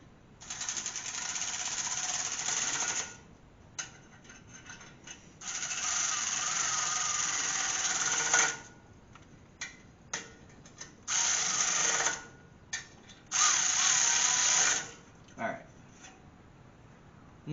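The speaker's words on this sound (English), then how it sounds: "I don't really want to use my pneumatic, but it's the only thing I got handy." Pneumatic ratchet driven in several bursts of two to four seconds, loud, close and steady, with shorter clicks and brief pulls between the runs, worked on a Pontiac GTO.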